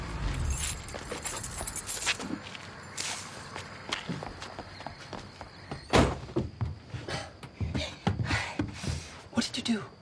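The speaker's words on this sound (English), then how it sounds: "I threw his keys away" A bunch of keys thrown away jangles in bright metallic rattles, with a sharp clatter partway through, mixed with nearby footsteps and brief rustles, fairly close and without talking.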